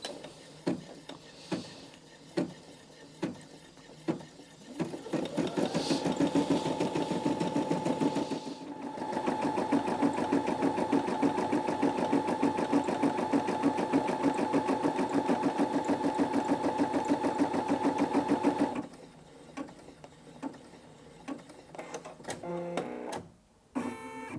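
A Brother Disney Innov-is M380D sewing and embroidery machine stitches an embroidery design: a fast, steady mechanical chatter runs for about thirteen seconds, with scattered clicks before it and a few sharp clicks after it stops.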